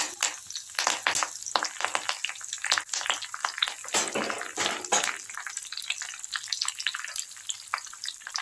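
Fenugreek seeds, cumin and curry leaves crackle and sizzle in hot oil for a drum-stick curry, a dense steady fry with sharp spattering bursts and stirring, close up and with no voices.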